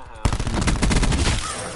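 Rapid automatic gunfire from the Black Ops 4 video game, a loud sustained burst of closely spaced shots that starts abruptly and rattles on for over a second, with no voices.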